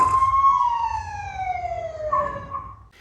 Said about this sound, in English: you can actually hear the sirens in your top middle speakers